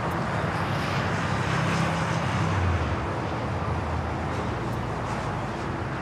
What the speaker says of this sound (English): caution wing turbulence, heavy Boeing 777 departing